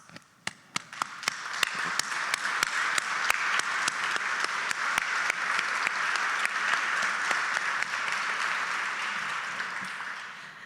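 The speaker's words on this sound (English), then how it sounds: "Would you all stand for a much-deserved round of applause?" A standing ovation from the audience at a senior citizens hall of fame induction ceremony, sharp nearby claps building into a full, steady roar of applause that carries on for several seconds.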